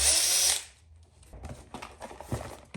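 A short, high-pitched whir of a power drill runs for about half a second, then gives way to quieter clicks and handling noises, during work on an LS engine.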